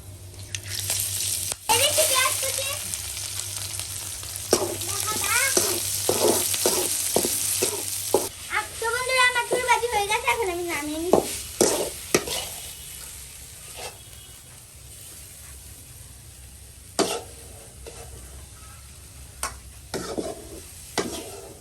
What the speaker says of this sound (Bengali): এখন আমি ভেজে নেব দিয়ে দিচ্ছি শুকনো মরিচ দিয়ে দিচ্ছি একটু কালো জিরে